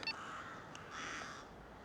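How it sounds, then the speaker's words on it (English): Crows caw in distress near a hovering drone, a few short harsh calls rising over steady wind and rotor noise, fairly faint and without talk. "those birds are getting distressed"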